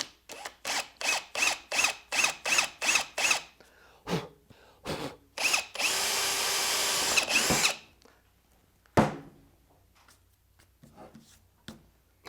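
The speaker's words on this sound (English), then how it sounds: "drill just off center of that seam" Several short bursts of a power drill biting into a plastic RotopaX gas can near a seam, followed by a longer continuous whir, then a few faint clicks and rustles.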